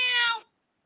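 A single short, high-pitched cat meow, fairly close, that cuts off abruptly into silence.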